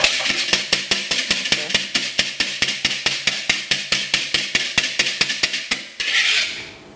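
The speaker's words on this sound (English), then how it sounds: "whipping it by hand so that it is frothy and a little bit foamy" Egg white is whisked by hand in a bowl with rapid, evenly spaced metallic clicks of the whisk striking the sides, about two dozen close strokes, before the beating stops and a brief rustle follows.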